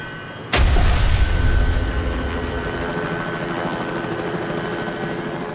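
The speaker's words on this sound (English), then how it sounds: "Flight 405 crashes on the shore of Flushing Bay" USAir Flight 405, an airliner crashing on takeoff onto the shore of Flushing Bay, reenacted as a sudden loud boom that settles into a sustained roaring rumble lasting several seconds.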